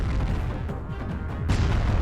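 Heavy weapon fire from the Doom Cannon in the space strategy game Halcyon 6, a dense low rumbling barrage that swells louder near the end, with no voices.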